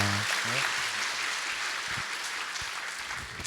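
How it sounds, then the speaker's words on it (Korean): Congregation applauds during a Sunday church service as a childbirth gift is presented, a steady wash of clapping filling the room while a low voice murmurs briefly at the start. "출산 장려금 드릴 때 박수로 축하해 주시기 바랍니다"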